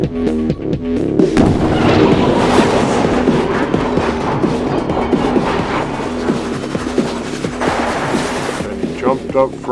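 Rapid gunfire and booming explosions from a violent gunfight in the Garry's Mod video game, a dense, loud, continuous barrage of shots with a voice speaking over it.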